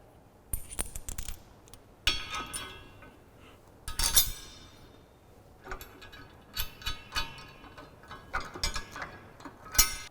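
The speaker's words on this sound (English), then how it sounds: "we're gonna grab our bolts, flat washer, put it up through the bottom, put the flat washer on the top, and then our nut" Metal bolts, flat washers and nuts clink and rattle as they are handled during a truck bumper install, giving irregular sharp chinks and small scrapes, close but fairly quiet, with gaps between bursts.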